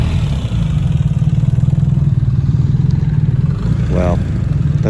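Big 5,700cc, 355-horsepower V8 in a drag-style motorcycle idling nearby, a steady loud low rumble with even pulsing throughout, with a brief voice near the end.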